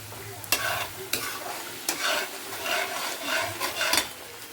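Cauliflower and potato for aloo gobi frying in oil in a pan, a steady close sizzle broken by a few sharp scrapes and clinks of a spoon stirring, with no voices.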